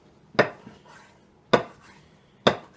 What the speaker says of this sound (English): Best thing to do before you cook your Brussels sprouts is to chop up some bacon.